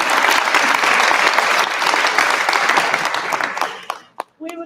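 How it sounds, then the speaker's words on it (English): A crowd at a graduation ceremony applauds loudly and steadily for graduates, the clapping thinning and dying out near the end as a voice begins. "give them a round of applause"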